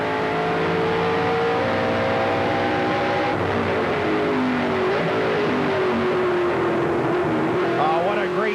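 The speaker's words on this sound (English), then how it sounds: "You heard him downshift on the brakes, on the power." A NASCAR Canadian Tire Series race car on the 2008 Trois-Rivières street course revs high, drops pitch sharply as it downshifts under braking, then climbs again on the power, loud and close with a voice faintly underneath.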